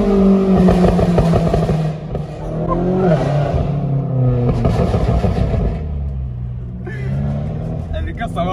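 A BMW M8 tuned past 800 horsepower with a straight-pipe exhaust revs hard and loud, its engine rising and falling in repeated surges with voices talking over it.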